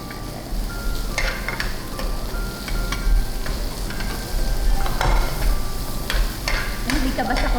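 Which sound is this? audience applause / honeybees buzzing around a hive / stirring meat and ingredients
stirring meat and ingredients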